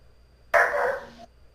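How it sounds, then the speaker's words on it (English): A dog barks once, a single short sharp bark lasting well under a second, close and fairly loud against a quiet room background. "The dog agrees."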